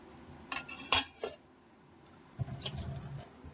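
A metal wok is set on a kitchen stove and handled, giving a few close clanks and scrapes in two short bursts separated by a quiet pause.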